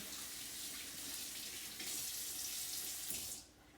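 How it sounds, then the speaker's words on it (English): A water tap running into a sink during handwashing, a steady splashing hiss close by that swells slightly and then cuts off near the end. "And wash my hands again."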